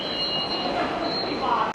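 A subway train runs along its rails in a metro system in Chengdu, China, with a continuous rumble, a thin steady high whine and a brief squeal near the end.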